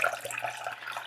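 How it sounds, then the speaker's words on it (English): Water poured into a potted Alocasia plant, a faint steady trickle and splash of liquid running into soil and pot for about a second, quiet and close with no talking. "Pour some water in here."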